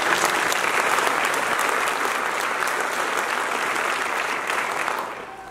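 Loud, sustained audience applause at a graduation ceremony, a dense wash of many hands clapping together that holds steady and then begins to fade near the end, with no speech over it.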